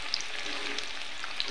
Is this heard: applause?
no